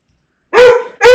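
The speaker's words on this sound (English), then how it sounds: "He's barking because there's a dog in the yard." A dog, reacting to another dog in the yard, gives two loud, close barks in quick succession after a short silence.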